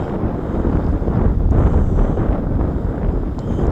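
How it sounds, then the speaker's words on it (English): Steady breezy wind gusting outdoors at beehives, a continuous low rumbling buffet across the microphone with no talk. "it's a little breezy today"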